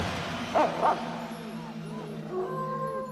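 A dog gives two short barks close by, then softer yips and whimpers trail off over a low steady hum.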